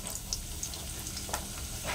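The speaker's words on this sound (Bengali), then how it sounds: "আলুগুলোকে আমি ভালো করে আগে ভেজে নেবো" Potatoes frying in hot mustard oil for a Bengali ridge gourd and potato poppy-seed dish, giving a steady close crackling sizzle with a few sharper pops and no talking.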